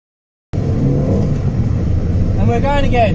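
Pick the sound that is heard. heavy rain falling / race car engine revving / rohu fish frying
race car engine revving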